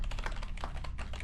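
Quick, close clicking of keys on a very old computer keyboard, a steady rapid patter of soft taps lasting about a second, alone without talk.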